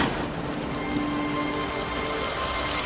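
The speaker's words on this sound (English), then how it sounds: "It's rain. Real rain?" Steady rain falls in a constant hiss of broadband noise, even and continuous throughout with no breaks, and a faint low tone threads through the wash with no talking.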